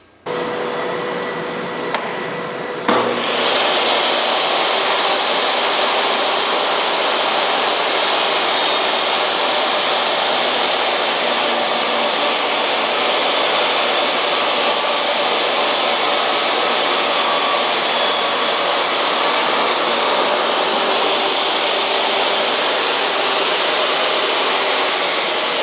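An EGO cordless vacuum sucks sawdust from a table saw, switching on after a few seconds into a loud, steady, close whooshing roar that holds unbroken for over twenty seconds.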